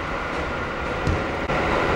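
A local train running beside the Air Self-Defense Force Chitose Base near New Chitose Airport, heard from inside as a steady rolling rumble with one brief dip in the middle.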